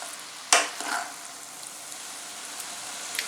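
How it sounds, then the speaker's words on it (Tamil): Chicken Hakka noodles stirred in a pan over a medium flame, a sharp scrape and clatter of a spatula followed by a soft sizzle, faint and close, with a few light knocks. "கலந்து விடுற வரைக்கும் மிதமான ஃப்ளேமில் வச்சு கலந்து விடணும்"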